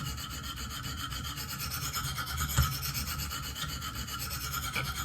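A knife drawn across the coarsest stone of a KME sharpener, a steady close gritty rasp that runs without pause, with one brief louder scrape midway.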